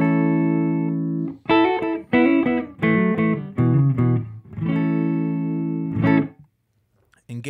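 Clean electric guitar tone played through a pedalboard, with sustained chords and short picked phrases ringing out clearly and close, ending in a brief silence with no voices.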